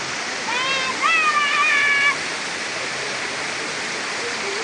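Penumpahan waterfall at Pagar Alam, South Sumatra, gives a steady, close, broadband rushing roar from start to end, while a voice briefly speaks over it early on.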